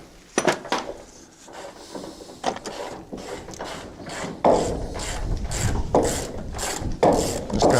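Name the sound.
ratchet wrench turning big bolts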